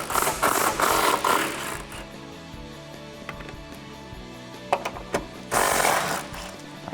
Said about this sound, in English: grab your impact gun and your socket and get those 3 off.